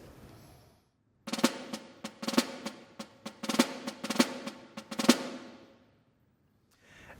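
A snare drum plays four-stroke ruffs at tempo, crisp clustered strokes landing in a quick steady rhythm of accented groups, close and bright, bracketed by brief quiet before and after.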